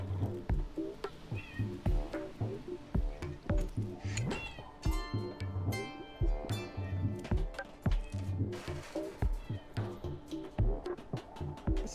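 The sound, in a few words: pet cat meowing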